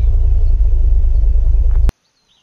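A car engine rumbles loudly and steadily in the Unturned video game, a deep continuous drone that cuts off abruptly into near silence.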